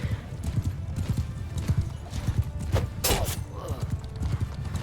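Horses gallop in a Mount & Blade II Bannerlord battle, with a rapid, continuous drum of hoofbeats and a sharp neigh cutting through near the middle, all under a busy, noisy field.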